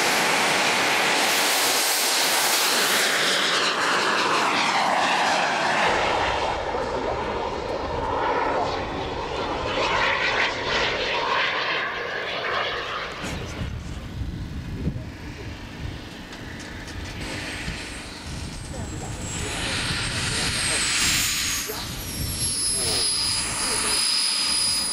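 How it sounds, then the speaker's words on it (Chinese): A large remote-control A-10 model airplane on its maiden flight roars past with a loud, continuous jet-engine whine that swells and shifts in pitch throughout, with faint background voices. "这台正在进行处女航的 A10 就是当天最巨大的一台"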